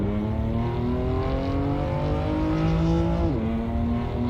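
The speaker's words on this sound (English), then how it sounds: "Let me hear the exhaust. No, the exhaust is nice." BMW car exhaust in the Assetto Corsa racing game, droning loud and close, holding a steady engine note before a quick drop in pitch, with no talk.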